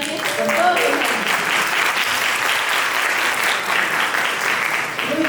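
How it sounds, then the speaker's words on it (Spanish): A lecture audience gives a speaker a warm round of applause, dense and sustained for several seconds at steady loudness, with a few voices faintly audible underneath. "Pedimos nuevamente un fuerte aplauso para que nos acompañe con todos los ánimos."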